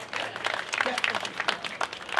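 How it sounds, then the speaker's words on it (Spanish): Scattered audience clapping at a comedy-style concert show, uneven bursts of claps fairly quiet and mixed with crowd noise, briefly rising and falling over about two seconds. "Sí, un fuerte aplauso, pues, señores."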